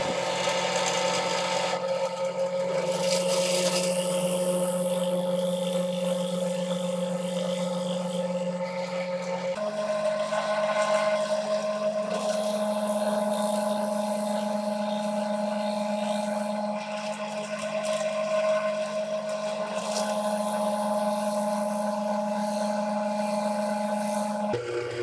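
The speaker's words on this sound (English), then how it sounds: "As you could see, there was a lot of smoke when drilling those out" A power drill turns a 3/8 inch plug cutter into red oak, giving off a steady, loud whining drone with a constant pitch that runs for the whole stretch, briefly shifting as each cut starts again, with no voices.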